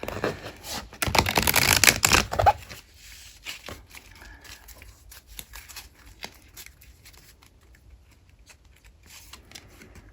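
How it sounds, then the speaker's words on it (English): Tarot cards being cut and shuffled by hand, a dense riffling burst early on followed by softer, sparse card handling and light taps. "I want to cut the cards as well"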